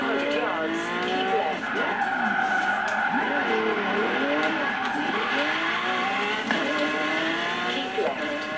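V12 car in the video game Forza Horizon 3 roars through rapid revs and gear changes while tires squeal and skid repeatedly, loud and continuous, with a voice speaking over it.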